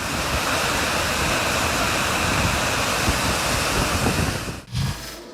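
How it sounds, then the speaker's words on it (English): Sand pouring down a desert cliff in a continuous heavy rushing cascade like a waterfall, loud and steady before cutting off abruptly near the end. "he saw a whole lot of sand fall from a cliff, making it look like the waterfall, but with sand falling down"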